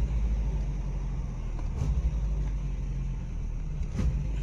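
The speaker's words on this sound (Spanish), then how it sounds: "Y hasta hay un cascabeleo." A car engine idles high above 1000 rpm with a light rattle, a steady low rumble held close and even for a few seconds, with two faint knocks near the middle and end.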